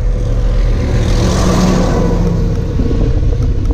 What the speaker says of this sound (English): bit of traffic